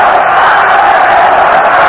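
A boxing crowd roars at the 1982 Aaron Pryor vs Alexis Arguello fight, a loud, dense, continuous wash of cheering and shouting with no breaks.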